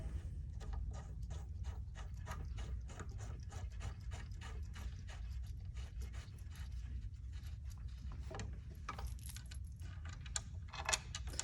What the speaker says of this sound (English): tightening with an Allen wrench once you have put in the connector bolts